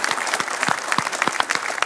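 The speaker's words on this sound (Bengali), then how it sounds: "আমরা তাকেও জোরে একটা করতালি দিতে চাই" A studio audience at a talk show applauds loudly and continuously. Individual sharp claps stand out in a quick, uneven rhythm over the steady wash of the crowd.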